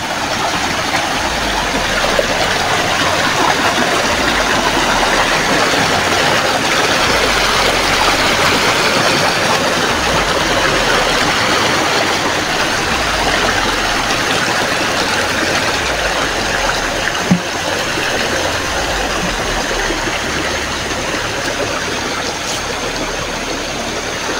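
A river flows in a steady, dense broadband rush that continues for the whole stretch without a break, loud and close, with a faint low engine-like drone underneath.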